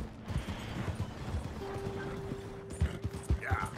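A horse's hooves clip-clop at a steady gait in Red Dead Redemption 2, a run of regular close thuds under a low game hum and a sustained tone, with no talk.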